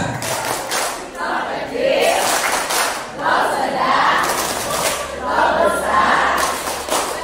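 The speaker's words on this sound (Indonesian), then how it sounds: "Ya, berikan tepuk cinta untuk Bu Ruri." An audience at a book-writing workshop performs a rhythmic 'tepuk cinta' clap, with repeated bursts of group clapping mixed with crowd chanting in time.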